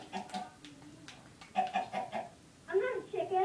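A chicken clucks in the video game Ultimate Fishing: a few short clucks, then two louder bursts of rapid, agitated clucking close up, separated by brief pauses.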